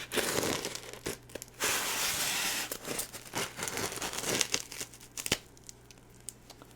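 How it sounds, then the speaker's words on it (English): A screwdriver breaks the tape holding two styrofoam sections of a Doctor Who TARDIS console model's packaging together, giving close bursts of crinkling and ripping, then a run of scattered squeaks and taps. "going to use a screwdriver to break the tape here, holding two sections of styrofoam together."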